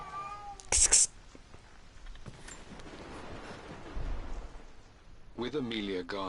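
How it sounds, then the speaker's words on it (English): A female cat on heat yowls and meows indoors, a sharp loud cry near the start and a wavering harmonic call at the end, with faint background sounds from the game Rise of the Tomb Raider in between. "I have a kitty yowling"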